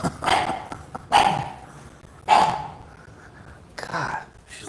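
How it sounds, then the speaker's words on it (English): A small dog barks in a few sharp, separate bursts indoors, loud and close, with quieter sounds between the barks. "she's a little attack dog"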